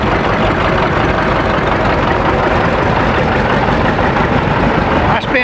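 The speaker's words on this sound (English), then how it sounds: "720, and those are very rare. Powerful looking tractor." Allis-Chalmers 720 diesel tractor of about 60 horsepower idling at an outdoor cotton gin festival, a loud, close, continuous low throbbing engine drone that holds steady throughout.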